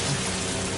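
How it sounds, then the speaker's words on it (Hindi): Heavy rain in a Hindi-dubbed Power Rangers Megaforce episode, a dense, loud, continuous hiss of downpour filling the whole moment with no break or change in intensity. "इतनी तेज बारिश है।"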